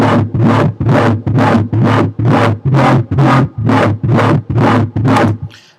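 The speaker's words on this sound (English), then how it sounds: "I have a heavyweight wobble." Heavy, pulsing wobble bass repeating in about a dozen evenly spaced loud bursts, deep and gritty, alone without any talk.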